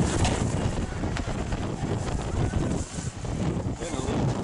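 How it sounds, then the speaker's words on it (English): Strong gusty wind buffets the microphone outdoors on New Year's Eve, a continuous loud roar with rising and falling surges throughout. "It's pretty windy, eh?"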